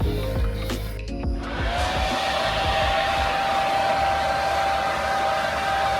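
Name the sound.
Ducati Streetfighter V4S cooling fans running loud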